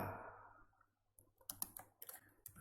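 Quick, quiet keystrokes on a computer keyboard, a short burst of soft clicks typed while entering a web address, following a fading hiss.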